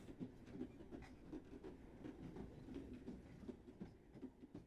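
Train rolling past in a video game, a rhythmic rumbling clatter of wheels and cars, steady and moderately loud with no speech.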